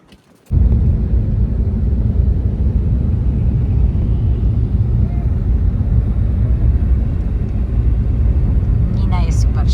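Car interior while driving, a loud constant low rumble of engine and road noise that starts abruptly after a brief quiet moment and holds steady throughout.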